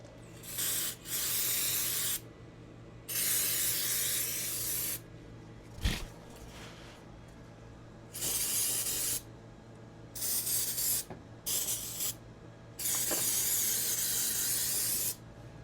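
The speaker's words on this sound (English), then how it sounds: "Then we just spray some silicone spray." Silicone spray hisses from an aerosol can onto the exhaust wrap of a 1991 Polaris Trail Boss 250 four-wheeler, in several separate bursts of one to two seconds with quiet gaps between them, close and fairly loud.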